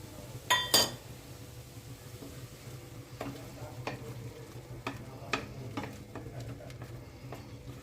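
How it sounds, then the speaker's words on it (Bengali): Ginger-garlic paste fries in ghee in a pan with prawns for a prawn malai curry, a soft steady sizzle under two sharp utensil clinks early on and light scattered stirring scrapes and taps throughout, with no talk. "আদা রসুনটা ভালোভাবে ভেজে নিতে হবে, নাহলে গন্ধ ছাড়বে কাঁচা আদা রসুনের"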